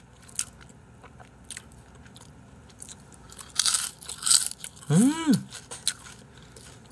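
Crunchy butter-grilled dried pollack (meokte) sprinkled with seasoned salt being bitten and chewed close to the mic, with sharp crackling crunches in bursts, between quiet stretches and a rising vocal sound near the middle.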